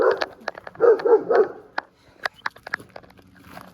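Several sharp dog barks and yips close by, in quick bursts with short gaps, the strongest in a rapid run of three, in a domestic setting.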